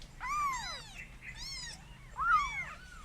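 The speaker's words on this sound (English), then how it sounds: "So this is the cat after 3 weeks." A three-week-old kitten meows in three rising-and-falling cries, close and clear over a quiet background hum, with no one talking.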